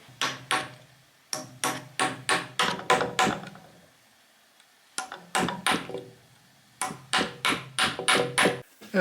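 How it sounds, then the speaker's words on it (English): Repeated sharp metallic impacts in quick bursts, several rapid knocks per group, with short pauses between the series of slide hammer strikes pulling an old seal from a Mitsubishi L200 steering rack. "I'm pulling the old seal out with a wood screw and a slide hammer"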